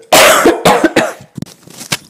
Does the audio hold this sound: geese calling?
no